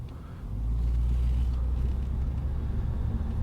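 A Lexus GS F, one of a 100-car 10th anniversary edition, shifted into drive with the engine idling; a steady low rumble swells after half a second and holds, with faint cabin fan noise and no talk.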